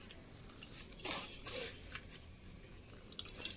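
Ragi mixture for halwa is strained and squeezed by hand into another vessel, giving soft wet drips and squishy bursts at a close distance, with no talking.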